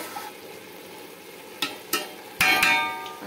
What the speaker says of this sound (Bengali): আর একবার আমি ভালোভাবে নেড়ে নেব এভাবে।